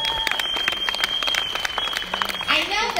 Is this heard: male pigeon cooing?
no